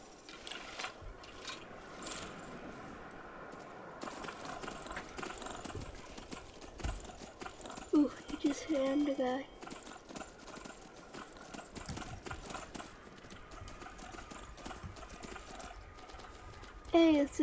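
Horse hooves clop steadily in Skyrim, mixed with mechanical ratcheting and game ambience over the whole stretch, moderately loud, with faint talk at moments.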